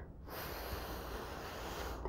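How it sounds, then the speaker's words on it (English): A single deep inhale during an energy healing breathing exercise, a close, soft airy draw lasting about two seconds, with no talking. "Breathe in"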